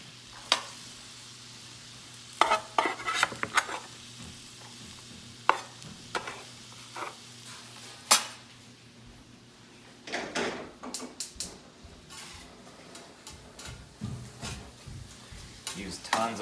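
Onions sautéing in plenty of butter in a pan for a savory stroganoff, a low steady sizzle under scattered clatter and knocks of utensils, with louder stirring scrapes toward the end.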